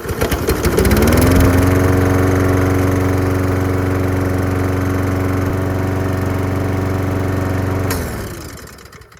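Walk-behind lawn mower engine with its safety bar zip-tied after the handle cable broke, started and running: a loud, steady close-up drone that holds for several seconds and then cuts off abruptly near the end.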